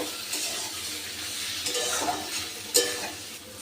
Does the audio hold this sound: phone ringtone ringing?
no